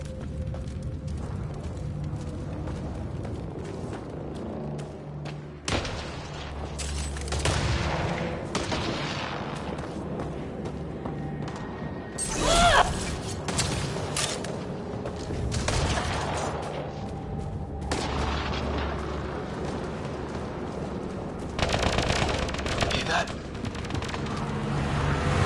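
Gunfire in the sci-fi shooter Mass Effect: Andromeda, with dense, sustained bursts of weapon fire and blasts through a firefight, loud and nearly continuous, with voices talking at times.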